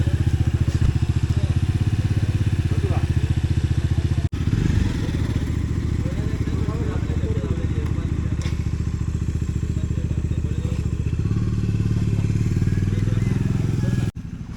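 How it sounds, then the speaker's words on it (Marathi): A motorcycle is wheeled out after being parked overnight and started for a ride toward Ekvira: a steady, loud, close engine rumble runs throughout, with a brief dip around the four-second mark. "आता बाईक काढतोय आणि मग राईड चालू करू"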